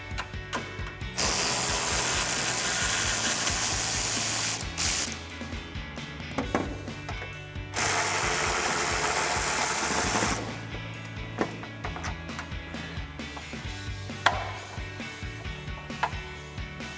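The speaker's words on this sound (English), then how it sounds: "I'm going to use a 13mm socket with a short extension on my ratchet to remove the 2 bolts in each of the hangers for the mufflers" Ratchet with a 13mm socket and short extension loosening muffler hanger bolts on a 2015-2023 Mustang GT 5.0L, rapid close clicking in long bursts separated by short pauses and occasional clanks.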